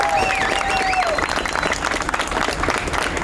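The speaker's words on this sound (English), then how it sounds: "How about a round of applause for KCTrendz for bringing us all together today?" A crowd at a Kansas City car show applauds, a continuous wash of clapping mixed with crowd voices and a whistle-like tone at the start.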